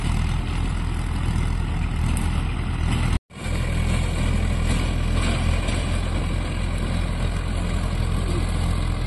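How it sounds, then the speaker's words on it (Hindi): A Mahindra Yuvo 415 DI tractor with a rotavator fitted with Sumon blades works a farm field, giving a loud, continuous engine drone with a broad rumble that holds steady apart from one brief dropout. "Mahindra UVO 415 DI with rotavator,"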